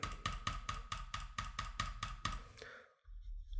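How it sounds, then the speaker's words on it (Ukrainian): Computer mouse buttons click in a quick, even series of about ten crisp, close clicks, then stop, leaving a brief quiet moment before a low background hum returns. "це від мишки."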